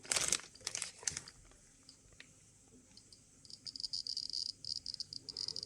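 A Geiger counter dosimeter clicks near a radiation source in rapid irregular bursts, dense at the start, thinning in the middle, then picking up again toward the end; close and fairly faint, with no speech.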